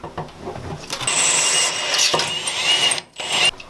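A drill whines at high pitch as it bites through a Ford Transit van's sheet metal, a steady grinding screech that briefly stops and then resumes near the mic.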